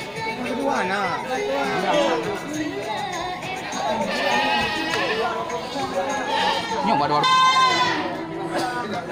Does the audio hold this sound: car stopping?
no